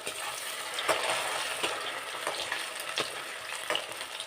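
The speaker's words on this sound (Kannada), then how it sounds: "ಈಗ ಆಲೂಗಡ್ಡೆನ ಹಾಕ್ಕೊತಾ ಇದ್ದೀನಿ. ನೋಡಿ, ಚೆನ್ನಾಗಿ ಎಣ್ಣೆಯಲ್ಲಿ ಡೀಪ್ ಫ್ರೈ ಆಗಬೇಕು" Potato strips deep-fry in hot oil for homemade french fries, making a continuous, close, even sizzle with occasional louder bubbling bursts and no voices.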